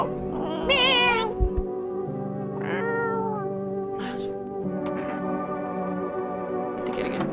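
Cartoonish cat meows from the video game No I'm Not a Human, several tonal mewing calls spaced through the stretch over a steady low game background hum, fairly loud and close.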